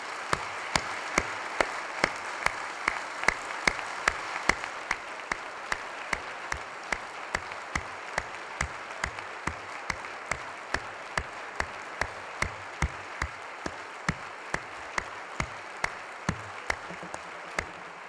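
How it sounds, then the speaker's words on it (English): Audience applause in a government chamber during a governor's budget address, a full burst of clapping from a large crowd that swells briefly and then tapers to a thinner, steady patter. "all of us should give a round of applause to these heroic state workers"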